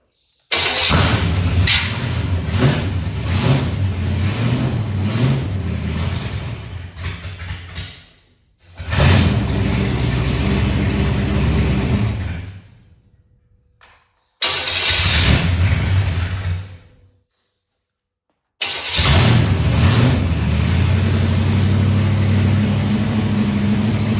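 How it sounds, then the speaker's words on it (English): A 1970 GMC 2500 truck engine with only part of its exhaust fitted cranks and runs loud and close in several bursts, rumbling and revving between short silences, with no voices. "it should be enough to be able to hear the motor"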